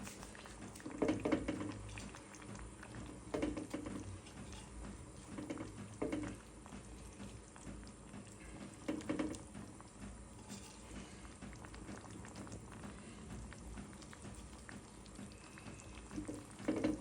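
Fish curry broth with cauliflower and potato simmers in a pot, a steady soft bubbling and patter close by with occasional louder gurgles, no voices.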